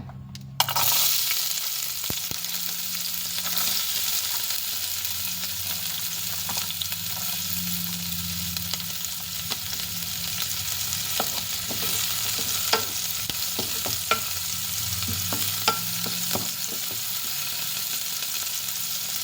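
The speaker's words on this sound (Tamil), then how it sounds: "இதுக்குள்ளே வந்து நாங்கள் வெங்காயமும் பச்சை மிளகாயம் வந்து வெட்டி வச்சுருக்குறோம், அதை போட போகிறோம்" Chopped onions and green chillies frying in hot oil for paan kottu, with a loud, steady sizzle and intermittent spatula scrapes and taps against the pan, no talk.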